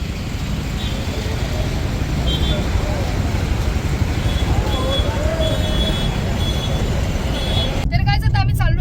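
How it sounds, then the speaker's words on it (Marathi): Heavy road traffic in Sinnar rumbles in a dense, continuous wash of engines, with occasional horn-like tones and a brief voice breaking in at the end. "आम्हाला खूप सारी ट्रॅफिक लागली आहे सिन्नरमध्येच, आणि ते पण खूप सारी ट्रॅफिक आहे, बघू शकता तुम्ही."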